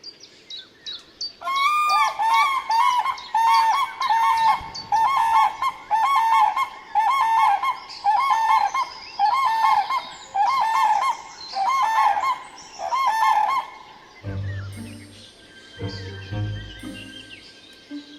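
Cranes call loudly over marshland territory in a ringing clangor. Repeated honking bursts come in a steady rhythm for most of the stretch, then fade into a few quieter calls over a low rumble.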